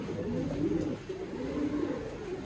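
Pigeons coo in low, throaty repeated rolls at close range, part of a pigeon setup offered for sale, with steady cooing throughout and no talking.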